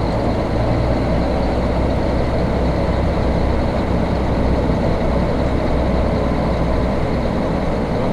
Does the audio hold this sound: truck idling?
yes